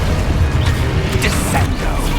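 Confringo spell blast in Hogwarts Legacy, a dense, loud crackling burst with rumbling low-end impact and mechanical clatter, continuous through a busy game soundscape with no talk.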